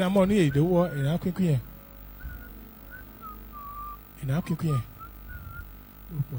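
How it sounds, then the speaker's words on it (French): A person whistles a soft, wavering tune between stretches of nearby talking, the whistle thin and fairly quiet. "Cette manière de siffler attire les poissons."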